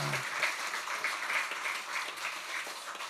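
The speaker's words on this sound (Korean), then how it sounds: "다시 한번 경외 박수하겠습니다" A church congregation applauds the choir during a Korean Sunday worship service, steady dense clapping from many hands filling the room for about three seconds without a break.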